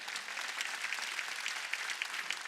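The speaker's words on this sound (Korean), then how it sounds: "박수치라 얘기야." A church congregation clapping hands during a Wednesday worship service, a dense steady patter of many hands heard at moderate distance and fairly quiet, without speech.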